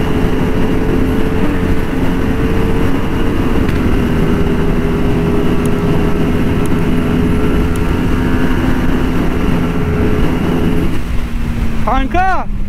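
A CF Moto 450 SR motorcycle accelerates hard with a loud, steady engine drone, the pitch holding under heavy wind roar. Near the end the engine note drops away and a voice speaks briefly.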